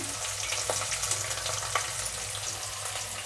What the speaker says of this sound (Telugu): కరివేపాకు ఉల్లిపాయలు కొద్దిగా వేగనిద్దాము